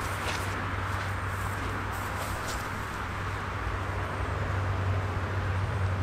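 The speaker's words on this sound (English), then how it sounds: "sorry about the road noise behind me" Steady road traffic noise from passing vehicles fills the background outdoors, a continuous low rumble and wash that never lets up, with no voice over it.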